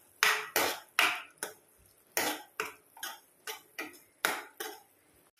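Schezwan sauce and soy sauce being mixed in a pan, heard as a run of about ten sharp, evenly spaced scraping and clinking strokes of a utensil against the pan, close and fairly loud with short gaps between.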